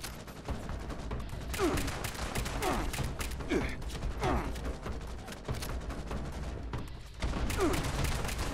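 Gunfire in the Fallout 76 video game, aimed at a creature's arm during combat, sounding as steady rapid bursts of in-game shots and mechanical clatter that run the whole stretch at even loudness.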